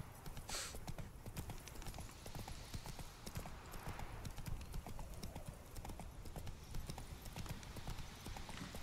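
Hooves of a horse galloping in The Witcher 3, a rapid continuous clip-clop that is faint and steady throughout, with no talking over it.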